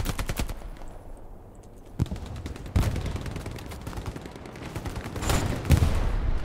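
Bursts of tank machine-gun fire in the Hell Let Loose war game, loud and close with rapid rattling volleys and heavy impacts, no talking over them.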